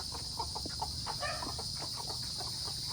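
Faint clucking and peeping of chickens and chicks on a Philippine farm, scattered over a steady background hiss, soft and somewhat distant.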